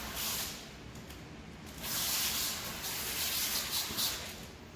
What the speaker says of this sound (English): grab our film, spray it down